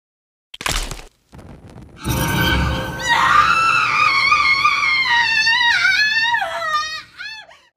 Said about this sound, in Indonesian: ngedengar suara teriakan orang yang lagi disiksa